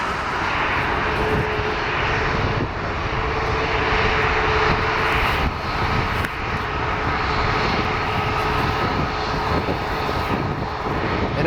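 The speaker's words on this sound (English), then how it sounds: "Alaska 737 MAX 8 is speeding for taxi right now." Alaska Airlines Boeing 737 MAX 8 jet engines droning while taxiing at an airport, a loud steady roar with a thin whine running throughout, unbroken and close.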